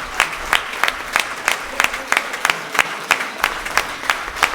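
Audience at a chess tournament prize distribution giving a round of applause, steady close clapping with a regular rhythm of loud individual claps standing out throughout.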